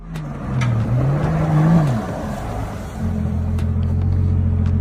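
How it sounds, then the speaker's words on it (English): A Rolls-Royce car rumbles and revs as it drives off-road, its engine note rising and falling with one gear-like shift partway through, loud and close with no talk over it. "Arman showed off his brand new Rolls-Royce and even took it off-road"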